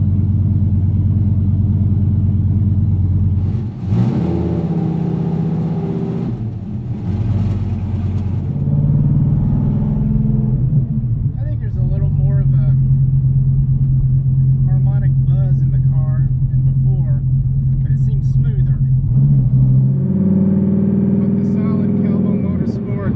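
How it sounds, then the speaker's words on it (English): Gen V Dodge Viper V10 with a big cam, loud exhaust and new transmission mounts, idling with a deep steady rumble and buzzing vibration; a person talks over it throughout. "Motor mounts and the big cam and loud exhaust, the car already had a lot of vibration and buzzing to it."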